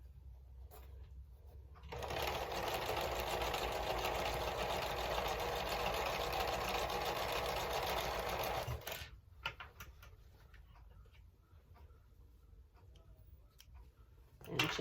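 A sewing machine chain-sews quilt pieces onto a small scrap of fabric, running steadily and fairly loudly for about seven seconds before stopping, followed by faint handling noises.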